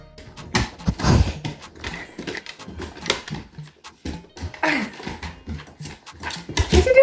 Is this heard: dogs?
yes